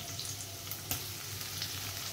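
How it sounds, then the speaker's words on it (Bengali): Green chillies sizzling in a pan with garlic, onion and black cumin, a quiet steady frying hiss with small crackles and a brief stir clink, no talk. "কাঁচা লঙ্কা ভাজতে দিয়ে দিলাম।"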